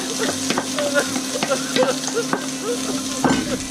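Finely diced onions sauté in a pan over lowered heat, a steady close sizzle broken by repeated scrapes and clicks of a utensil stirring them.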